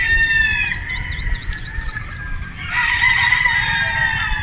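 Broodstag roosters crow in repeated bursts mixed with clucking, fairly close and loud over a steady background hum, with no talking.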